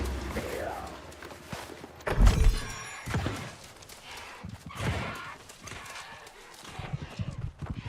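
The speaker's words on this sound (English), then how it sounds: "That guy's got a horse." Horse hooves clip-clop in the online game New World, a short burst of loud thudding steps around the middle with game sounds and someone talking over it.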